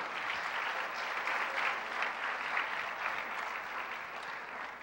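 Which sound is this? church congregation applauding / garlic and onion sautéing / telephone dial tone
church congregation applauding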